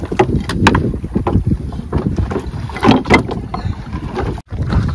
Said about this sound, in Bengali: প্রচুর হাওয়া, প্রচুর।